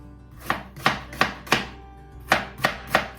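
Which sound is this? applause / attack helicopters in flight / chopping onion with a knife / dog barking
chopping onion with a knife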